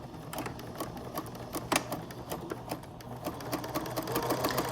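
A sewing machine runs a flat-felled seam along a narrow fabric edge, a close, rapid, even chatter of stitching with crisp needle ticks throughout.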